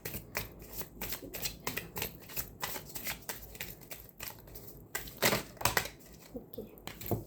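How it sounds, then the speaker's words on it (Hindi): Tarot cards shuffled by hand, a soft, quick run of riffling slaps and flicks in uneven bursts, close and fairly quiet. "तो चलिए अब हम कार्ड को शफल करते हैं"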